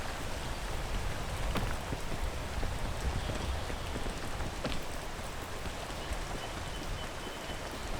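A video game waterfall gives a steady, dense rush of falling water with a faint patter, constant and even at moderate volume, with no talk over it.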